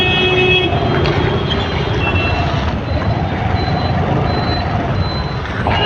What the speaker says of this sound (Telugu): చాలా ట్రాఫిక్ ఉంది ఇక్కడ.